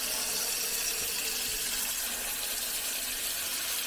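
Hot tap water fills a Ninja AF400UK air fryer basket for soaking, a steady, close hissing gush that runs continuously without a break.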